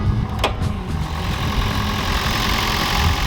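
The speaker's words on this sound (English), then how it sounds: "Sounds like a Prius engine." A high-mileage Toyota Prius engine, around 200,000 miles, runs steadily close by after a short full-throttle pull, a continuous low rumbling drone with a faint click near the start and no talk.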